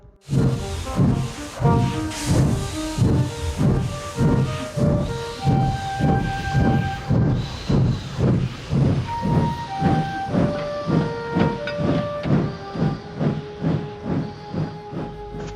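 Steam train pulling into a station, a loud rhythmic chuffing that slows, with hissing steam and sustained whistle-like tones layered over the beat; no talk.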